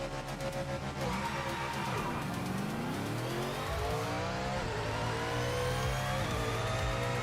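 GT4 Ford Mustang race car in Project Motor Racing, its engine roaring loud and continuous as it accelerates through the gears, with a gearshift dip around two seconds and climbing pitch after.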